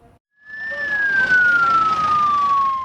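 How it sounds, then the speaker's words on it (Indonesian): An ambulance siren carrying a body to a funeral home in Ciamis rises in after a brief pause and holds a loud, steady wailing tone that slides slowly downward as the vehicle arrives, with traffic rumble underneath. "jasad Adel tiba dengan mobil ambulans"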